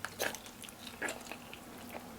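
Close, wet chewing of garlic naan with chutney, Pakistani food, comes in a few short bursts of mouth clicks and squishes over a quiet background, with no talking.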